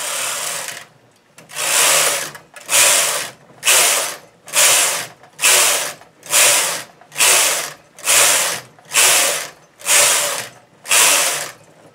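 A bulky knitting machine carriage sweeps back and forth across a blanket hem, giving about eleven evenly spaced, loud mechanical rasping passes with brief pauses between each row. No talking is heard.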